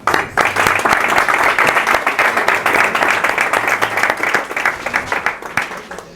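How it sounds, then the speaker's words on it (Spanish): An audience at a conference bursts into strong, sustained applause, many hands clapping steadily for several seconds with no talk over it, tapering slightly toward the end. "Por eso pido un fuerte aplauso para ella."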